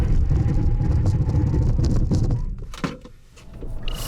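A Hyundai Santa Fe Hybrid in a braking test gives a steady, loud rush of road and engine noise that fades as the car slows, followed by a few soft knocks and a brief high tone near the end.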